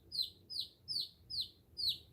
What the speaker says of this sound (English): Oh, you chirping.